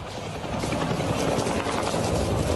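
Police helicopter flying low over the Complexo da Maré during a raid, its rotor wash a loud, steady, broadband roar that fills the whole stretch without a break.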